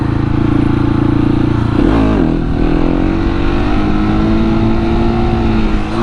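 Supermoto motorcycle engine revving hard on the throttle during a wheelie run, a loud, close, steady drone whose pitch dips and climbs sharply near the two-second mark before holding smooth to the end.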